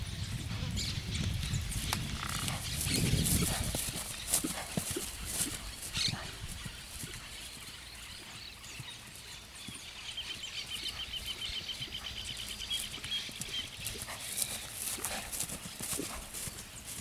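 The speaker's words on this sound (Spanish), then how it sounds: "Estamos galopando con una mano y con otra." Clip-clop hoofbeats of a chestnut horse galloping in a riding demonstration, rhythmic and fairly close at first, then lighter and more distant, with faint background noise.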